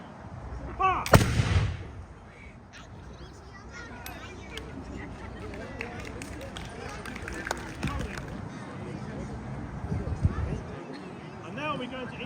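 A loud volley of flintlock muskets cracks out at an 18th-century re-enactment of the 6th Virginia regiment at Oakwell Hall, one sharp blast followed by crowd murmur and outdoor bustle, with a fainter report near the end.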